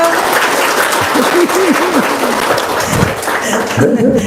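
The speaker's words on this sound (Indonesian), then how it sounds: "Tepuk tangan dulu." A crowd claps steadily for a few seconds while voices call out and talk over the applause.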